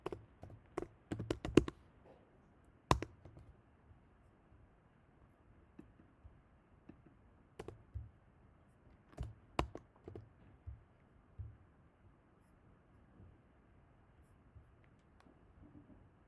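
Typing on a computer keyboard, heard as quiet, sparse bursts of key clicks with pauses between them in a calm room, picking up in short flurries; no talking.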